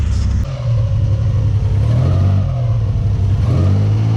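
A Nissan 300ZX Z31 on old injectors idles and revs with a deep, loud rumbling engine note, close up and continuous, spitting slightly with a brief dip near the start.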